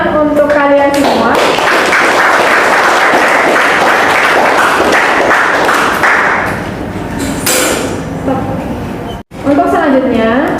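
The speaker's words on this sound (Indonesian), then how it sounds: "Kita berikan tepuk tangan untuk kalian semua." Students applaud in a classroom, a dense, steady burst of clapping running most of the way before fading, with a teacher's voice speaking over the start and again at the end.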